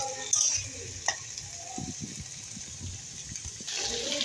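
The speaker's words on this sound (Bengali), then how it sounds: "দেখেছো ভাজা ভাজা হচ্ছে" Food frying in a pan in a home kitchen, a soft steady sizzle with occasional stirring knocks and scrapes, fairly quiet, rising a little toward the end.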